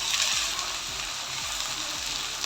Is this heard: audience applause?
no